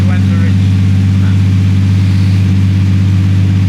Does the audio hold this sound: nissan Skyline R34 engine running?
yes